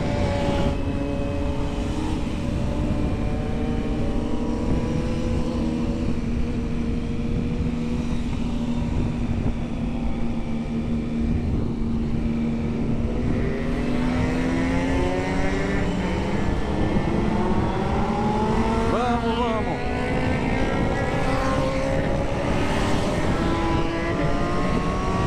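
A carbureted Honda Hornet motorcycle engine runs steadily and loudly for a long stretch, its tone climbing and falling as it revs, with wind noise and no talk.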